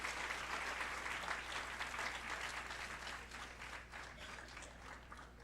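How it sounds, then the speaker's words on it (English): Audience applause welcoming a speaker on stage at a tech hackathon event, steady dense clapping from a crowd sustained throughout and gradually easing slightly, with a low hum underneath. "Please welcome him with a huge round of applause."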